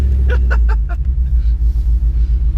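Supercharged Chevrolet Tahoe making about 660 horsepower, its engine rumbling loud and close in a low steady drone that swells as it races, with a few brief voices early on.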